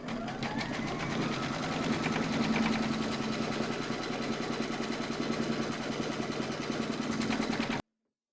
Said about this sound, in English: pop your hoop into your machine and stitch round number 3 to secure it